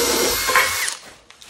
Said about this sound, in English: So I got 20 handles to drill, holes to drill